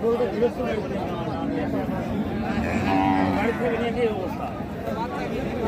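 A Sahiwal cow with her calf moos at a busy Raniganj cattle market, a drawn-out low call rising mid-clip over steady crowd chatter and people talking nearby.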